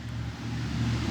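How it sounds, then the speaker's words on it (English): A loud truck drives past outside with a steady, close engine rumble that swells slightly toward the end. "loud Alabama truck"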